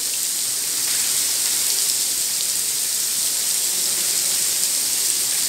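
Artificial rain pours down inside the Sharjah Rain Room, a loud, dense, unbroken hiss of falling water that fills the space with no talk over it.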